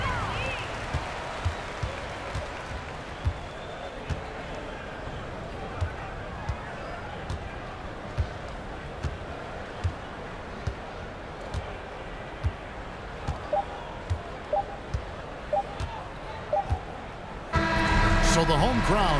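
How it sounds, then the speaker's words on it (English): Crowd in an NBA 2K basketball game, a PBA Philippine Cup matchup of Rain or Shine Elasto Painters versus Magnolia Hotshots, with a steady roar throughout, repeated ball bounces and squeaks, and a louder burst of cheering near the end. "So the home crowd happy here as they get the victory."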